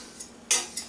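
Whisk working ingredients into a shrimp sauce in a metal pan: three quick bright metallic clinks, the middle one loudest, close by with no talk.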